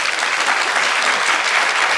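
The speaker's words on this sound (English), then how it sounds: "Give her a big round of applause." Dense audience applause at a keynote address by a Los Angeles County supervisor, steady and loud for two seconds with no voices over it.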